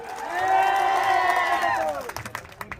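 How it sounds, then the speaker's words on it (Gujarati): Crowd at a political rally in Dahod, Gujarat, welcoming a youth-wing leader: a loud swell of cheering and whooping for about two seconds, fading into a few scattered claps. "ગુજરાત પ્રદેશના યુવા મોરચાના પ્રમુખ એવા બિજરાજભાઈ સોલંકીને પણ આપણે તાળીઓથી વધાવીએ"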